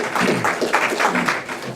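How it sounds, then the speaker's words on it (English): An audience at an opening bell ceremony breaks into applause, a full, continuous rush of many hands clapping, steady and fairly loud throughout. "a round of applause for that"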